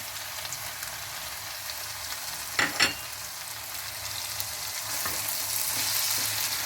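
Paneer stirred and frying in a pan for mixed vegetable sabzi, heard as a steady close sizzle with one brief pair of louder scraping knocks partway through.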